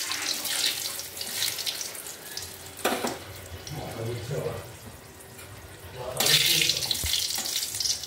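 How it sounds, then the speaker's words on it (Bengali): Green chillies frying in hot oil, a steady hiss and crackle with watery sputtering bursts that swell and fade, heard close up without talk. "তেলটা গরম হয়ে গেছে, এবার লঙ্কাটা দিয়ে দিলাম, লঙ্কাটা ভাজছি।"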